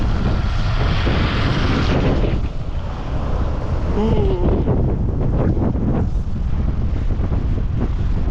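Steady roaring blizzard wind fills the whole stretch, a dense broadband rush with gusty swells and blowing snow, loud and close to the microphone, with a voice faintly underneath.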